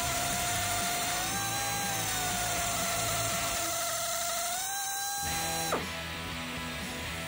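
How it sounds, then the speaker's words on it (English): Drill boring out a broken exhaust manifold bolt through a ProMAXX Bullit medium bushing, a steady high whine that shifts pitch slightly before cutting off abruptly near the end, heard alone. "he's put the 188, the medium size bushing in there, and we're gonna go ahead and drill that out next."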